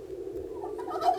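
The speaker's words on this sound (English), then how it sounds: "a sound far off in the forest, a sound he had never heard before, a very soft gobble gobble" A turkey gobbles softly somewhere far off in a forest, a single low warbling call that rises slightly at the end, faint and alone.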